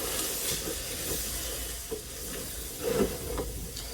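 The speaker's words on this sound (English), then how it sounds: "Stir your gravy." Gravy in a pan, stirred after biscuits are set out: a soft, steady sizzle and hiss with faint scraping strokes of the spoon, a slightly louder scrape near the end, fairly quiet and without any talk.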